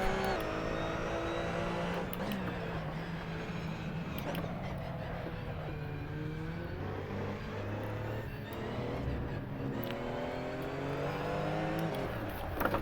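GT3 race car engines in the racing game Assetto Corsa, a continuous loud roar whose pitch climbs and drops through gear shifts, with other cars' engines blending in throughout.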